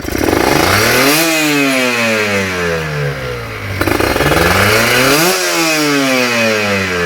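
A Kawasaki KSR Evo motorcycle with a newly fitted carburetor revs hard twice, each run climbing sharply from idle and dropping back, loud and close with a rough mechanical edge.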